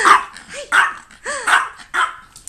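A puppy barks repeatedly up close, five sharp yappy barks spaced roughly half a second apart with high whiny tails between them.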